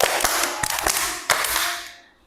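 Schoolchildren in an elementary classroom clap in a rhythmic group pattern, a handful of sharp, close claps over a room-filling wash that fades out at the end.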